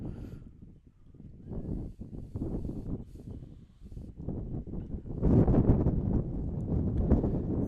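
Strong wind buffets the microphone at an outdoor cross country race, a continuous low rumbling roar with gusts that swell louder toward the end, with no voices heard.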